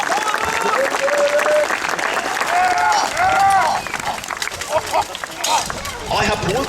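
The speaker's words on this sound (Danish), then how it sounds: "begge riddere har brug for et brag af et bifald" Sustained crowd applause and clapping for knights at a medieval tournament in Nyborg, loud and continuous, with an announcer's voice speaking over it throughout.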